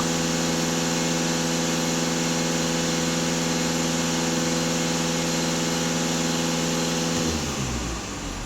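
A Volkswagen Passat B8 engine idles steadily and up close, its low drone and harmonic hum holding constant for about seven seconds before the tone shifts and wavers near the end.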